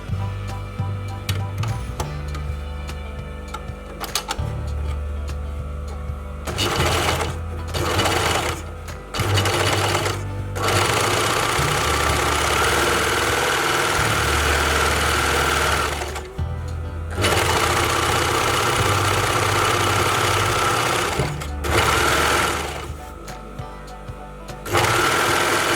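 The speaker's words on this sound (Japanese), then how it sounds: "であとはここにロックミシンをかけます。" An overlock serger runs in long steady bursts as it stitches a seam pocket, pausing briefly between passes, with a loud, close mechanical whir throughout.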